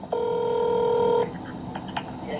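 A telephone dials out to the US Navy with a steady dial tone held for about a second, then a few short, faint tones follow.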